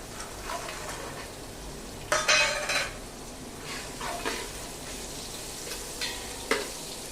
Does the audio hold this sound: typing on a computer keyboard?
no